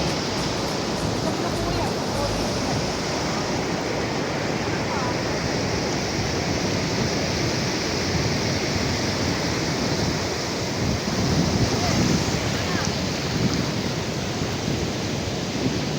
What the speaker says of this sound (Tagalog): Ayan na yung malalakas na alon.